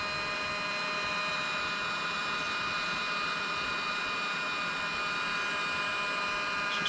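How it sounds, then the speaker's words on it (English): A heat gun blows steadily on wrap shrinking over the rear wiring harness of a 1968 Mustang. It makes a continuous, close, even whoosh with a faint whine and no pauses. "now we're just gonna keep putting the heat to it so it shrinks up really nice there"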